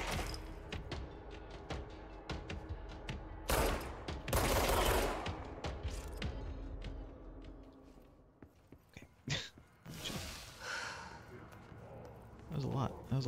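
Gunfire in the video game Control: bursts of broadband shots scattered through the clip, with a dense loud volley in the middle and sharper isolated cracks later, mixed with other game sounds and a voice talking over it.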